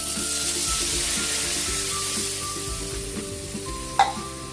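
Coconut milk is poured into a pan of sizzling onions for a ginataang yellowfin tuna dish, giving a steady, continuous frying hiss at close range and one brief sharp clink near the end.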